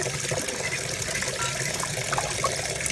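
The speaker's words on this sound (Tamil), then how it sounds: "தண்ணி ஊற்றி நல்லா அலசி எடுத்துருங்க மீனை" Water splashes and sloshes continuously as ribbonfish bought at Kasimedu are rinsed clean in a vessel, a steady close liquid churning with small trickles and no speech.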